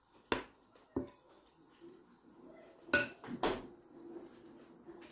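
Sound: non-stick pan being flipped over

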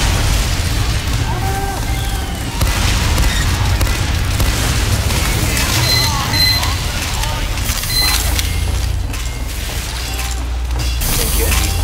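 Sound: mini sentry destroyed explosion in video game TF2

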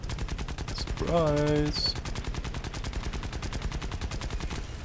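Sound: aircraft machine gun fire in video game War Thunder

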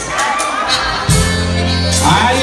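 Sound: women in concert audience shouting

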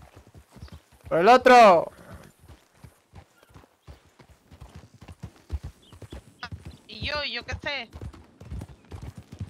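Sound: horse hooves clip-clopping in a video game, Red Dead RP

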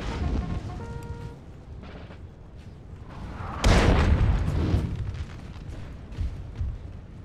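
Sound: artillery fire in the video game Napoleon: Total War

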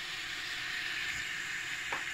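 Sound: vegetables sizzling in oil

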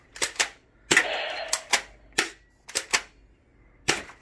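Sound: LM Kids pump action shotgun gel blaster firing at targets

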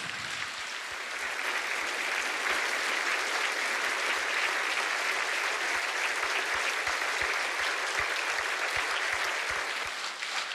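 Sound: audience applause for heroes

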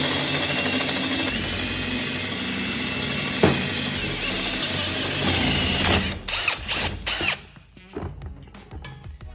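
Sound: drill bit drilling out bolt hole

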